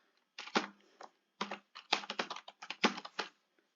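An email ID being typed on a computer keyboard, with quick bursts of clacking keystrokes separated by short pauses, close and clear with no voices.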